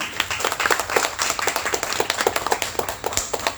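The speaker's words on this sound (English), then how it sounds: "And now let's give them a round of applause." An audience at a poetry reading event claps in dense, steady applause, close and moderately loud, with many hands striking quickly for the whole clip.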